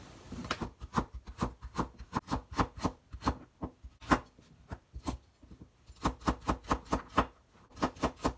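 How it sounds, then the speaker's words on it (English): A knife chops vegetables into quarter rounds on a cutting board: quick, crisp, close-up taps in steady bursts with short pauses, alone and fairly quiet. "And cut them into quarter rounds."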